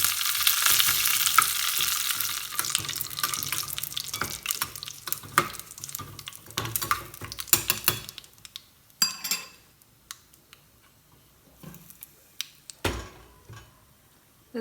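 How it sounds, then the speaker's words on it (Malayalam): Curry leaves hit hot coconut oil and give a loud, hissing sizzle with crackles while Kerala ethappazham pachadi is prepared. The sizzle is steady at first, then breaks into sharp spatters and fades out, with no talking. "ഇനിയിപ്പം അതിലേക്ക് കുറച്ച് കറിവേപ്പില ഇട്ട് കൊടുക്കുക."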